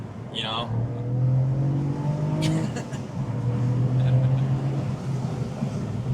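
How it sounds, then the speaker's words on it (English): A Cadillac CT4-V Blackwing, tuned to about 500 hp with a JB4, gives off a low, steady, somewhat muted exhaust burble while driving, heard from inside the car. "it's a lot of burble, and yeah, it's still fairly like muted"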